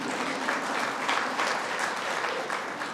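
Dense, sustained applause from a keynote audience at an energy department summit, many hands clapping together in a steady wash of sound that stays loud for the full three seconds, with no clear voices.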